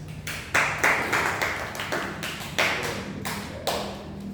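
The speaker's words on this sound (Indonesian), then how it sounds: "Beri tepuk tangan buat Mas Hendriko." A few people in a classroom applaud a student, sparse separate claps landing in an uneven rhythm, close and moderately loud, with no one speaking.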